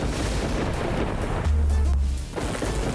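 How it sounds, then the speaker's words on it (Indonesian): Heavy artillery fire in a magical wizard battle, a deep booming burst with rumbling low end that swells midway and fades, no talking. "Kemudian artileri yang berat."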